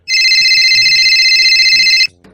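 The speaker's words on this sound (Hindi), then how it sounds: "अरे ये किसका फोन आ रहा है इस लोग का फोन पे?" A mobile phone rings with a loud, steady electronic ringtone that lasts about two seconds and then cuts off, while faint voices murmur underneath.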